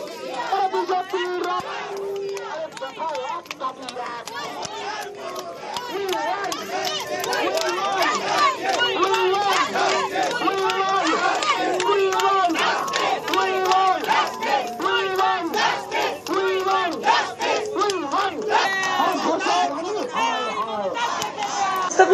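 Bengal BJP street protesters led by a party leader shout and chant together, a loud dense crowd of voices with rhythmic slogan bursts running continuously for over twenty seconds.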